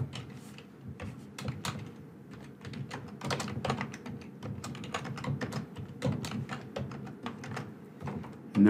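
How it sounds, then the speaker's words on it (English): Quick, uneven clicks of typing on a computer keyboard while JavaScript code is entered for an Excel web part in SharePoint, steady and close with light background hum, no voices. "Let's see if I can just type it in right."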